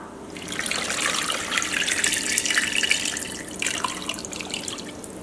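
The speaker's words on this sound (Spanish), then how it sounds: "voy a agregar agua" Water pours into a pot of pork ribs in a continuous splashing, gurgling stream, close and fairly loud.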